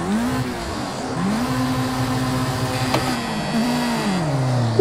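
Race car engine in the Project Cars 2 video game at the start of a career race, revving and climbing in pitch, dropping and rising again in steady loud sweeps.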